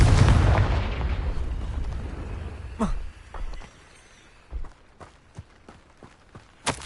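In Hogwarts Legacy, a Confringo fire spell bursts in a loud, booming explosion that decays over a couple of seconds, followed by sharper impacts, thuds and footstep-like knocks.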